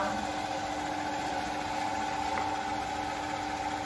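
A rotary vacuum pump on a vacuum evaporation coating machine runs with a steady, loud mechanical hum and hiss. The tone stays even across the whole stretch, with no clear break where it switches off or on.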